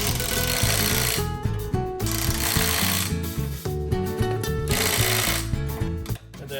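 A rattling power impact wrench tightens car wheel lug nuts in a star pattern during heavy tire installation, buzzing in short repeated bursts with brief pauses between nuts, loud and close.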